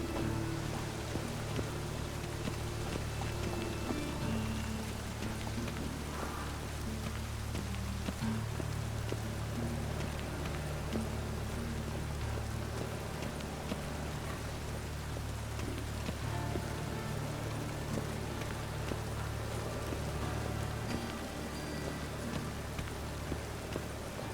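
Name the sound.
rain falling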